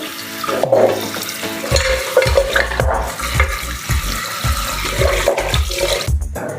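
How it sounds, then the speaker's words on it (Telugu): Goat trotters are washed by hand in water, close and fairly loud, with a repeating rhythm of low sloshing swishes and splashes over a continuous watery wash. "మనం తెచ్చుకున్న కాళ్ళని శుభ్రంగా ఒక టూ త్రీ టైమ్స్ కడుక్కోవాలి"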